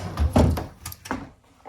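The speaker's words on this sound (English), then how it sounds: "And these have pocket doors, which are nice." An old-style pocket door in a rental single-family house slides and bumps, giving a few quick close thunks and rolling scrapes in a short burst with no speech.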